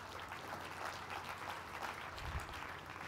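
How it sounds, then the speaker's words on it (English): An audience applauds volunteers called up to a stage at a talk, a soft, fairly distant and steady patter of clapping that stays muted throughout. "One more round of applause for our brave volunteers."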